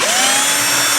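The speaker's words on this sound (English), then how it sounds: "Let me go ahead and grab my drill for this one." A cordless battery drill whirs at a steady high speed in a short, close, continuous burst while work is done on a Japanese-made guitar.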